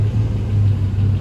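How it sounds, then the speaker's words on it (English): Chevy 1500 pickup with a 4.8L V8 that has a random misfire runs just after being started, a loud, close, low rumbling idle with slightly uneven pulses and no talk. "and then we fire the truck up."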